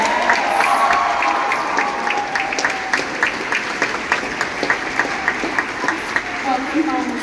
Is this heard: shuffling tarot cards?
no